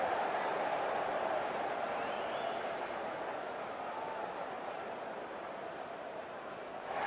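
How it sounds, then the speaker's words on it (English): Dense, roaring crowd noise at a T20 World Cup cricket match between Nepal and Bangladesh as players walk out, a steady loud wash of cheering voices from a large stadium with no distinct claps. "Oh, it's a loud crowd as the players make their way out."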